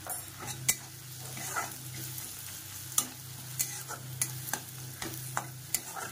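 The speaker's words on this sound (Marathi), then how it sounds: "शेंगदाणे कांदा आपला मस्तपैकी भाजलाय." Peanuts and onion roast in hot oil with turmeric as a spoon stirs and taps against the pan in uneven clicks, over a soft, constant sizzle heard up close.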